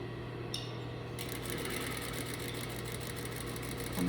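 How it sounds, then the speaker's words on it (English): A sewing machine stitches a seam on a collar, a steady close mechanical whir with fast even needle clatter that runs continuously without pause. "I am just back stitching to secure my seam."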